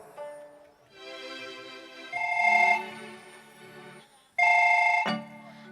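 A mobile phone rings in electronic bursts, a long trill followed by two louder, sharper rings, with short gaps between them.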